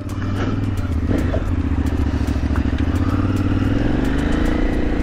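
A motorcycle rides off with a loud, continuous engine rumble that rises slightly in pitch as it pulls away, with rattling clatter over the top.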